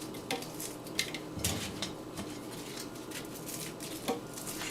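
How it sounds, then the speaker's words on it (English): A bowl is washed in a kitchen during mofongo cooking, with soft clinks of dishes and cutlery and light scraping repeating at a low level, no talk. "So that's why I'm cleaning the bowl."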